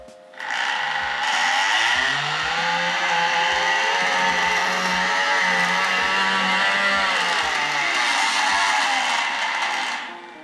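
A Tri-ang R.55 model diesel locomotive with two motors spins up, giving a loud, close, whirring mechanical drone that rises and holds steady, with a rattling tick running underneath, then winds down at the end.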